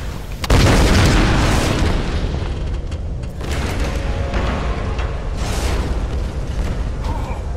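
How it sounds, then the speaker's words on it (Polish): Explosion in the Tomb Raider Definitive Edition video game, a sudden loud boom bursting in after a short lull, then a rumbling, crackling roar of debris and fire that lingers for several seconds. "potrzebny nam silniejszy wybuch!"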